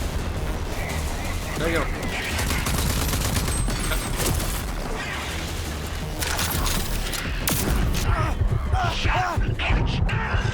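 Dense video game gunfire rattles in rapid bursts and volleys, loud and close, with heavy impacts mixed in, while someone talks over the shooting.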